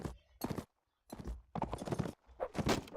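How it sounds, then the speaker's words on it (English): Hoofbeats of a fast horse galloping in the Mount and Blade Warband video game, coming in several loud bursts separated by short gaps, close and clear. "It's a fast horse."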